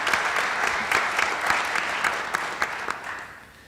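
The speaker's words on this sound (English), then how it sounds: "Let's give Tricia another round of applause." Audience applause for a graduate at a university graduation ceremony, steady clapping from a crowd that fades toward the end.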